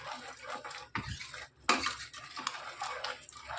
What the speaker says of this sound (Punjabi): ਦਹੀਂ ਪਾ ਕੇ ਆਪਾਂ ਨੂੰ ਤੇਜ਼ ਤੇਜ਼ ਹਿਲਾਉਂਦੇ ਰਹਿਣਾ ਰੁਕਣਾ ਨਹੀਂ